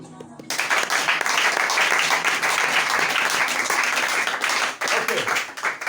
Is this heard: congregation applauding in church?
yes